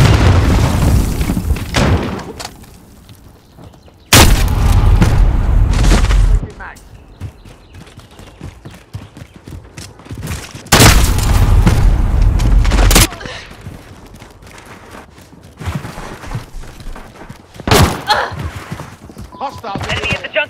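Grenades explode in Call of Duty Modern Warfare online play, several heavy booming blasts a few seconds apart, each a loud sustained roar that drops back to quieter battlefield noise and occasional voice callouts.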